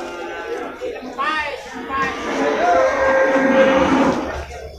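Imported cattle moo loudly nearby at a livestock market in Purwakarta, low drawn-out calls overlapping, with people talking in the background.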